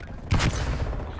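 In a shooter video game, a flashbang grenade goes off as one sharp, loud burst over a steady din of game noise, fading quickly.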